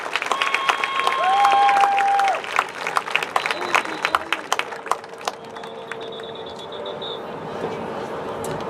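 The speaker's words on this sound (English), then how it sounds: "Let's give them a big round of applause" Applause from a crowd at a high school senior night fills the opening seconds, then thins into scattered claps as a voice talks over it through a loudspeaker.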